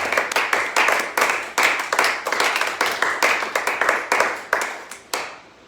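A church congregation claps in a steady, lively rhythm, acclaiming the Lord at the close of a worship service. Dense, fairly close hand-claps repeat for several seconds, then thin out and stop.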